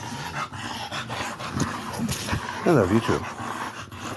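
A big dog pants and gives low rumbling growls up close while someone talks affectionately over it during play at home.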